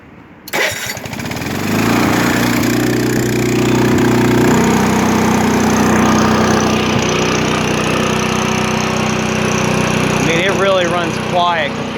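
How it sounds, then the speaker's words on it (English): A 1980s Honda HT-R 3009 riding mower engine cranks and fires, then settles into a steady, loud running drone close by, while a person speaks briefly near the end. "let me go ahead and start it up"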